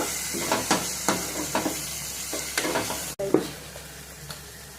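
Masala seasoned with turmeric and salt sizzles in a pan, with a run of scraping spatula strokes before a sharp clank and more frying.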